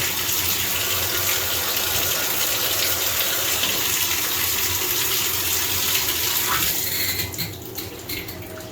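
A newly installed shower head runs over a freshly installed bathtub, giving a steady, close rush of water that tapers and turns more uneven near the end, with no voices.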